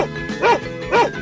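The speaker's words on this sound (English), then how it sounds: "dog" Two short bark-like calls from a dog in a 3D animal video game, each a loud, close, harmonic yelp about half a second apart, set against a faint steady game background.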